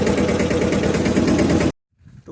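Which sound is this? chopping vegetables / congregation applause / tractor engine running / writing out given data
tractor engine running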